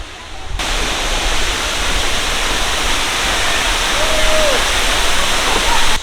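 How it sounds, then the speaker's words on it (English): A Cambodian waterfall roars in a loud, steady rush that fills the scene from near by, a constant broadband wash with no breaks. "Oh, the waterfall's so pretty. And the waterfall is stunning."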